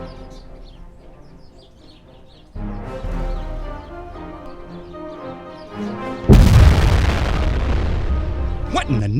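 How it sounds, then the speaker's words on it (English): Explosions boom across a sci-fi audio drama battle scene as a ship or position comes under fire, deep blasts erupting loudly and building in intensity over music and effects, with voices speaking throughout. "We're being fired on."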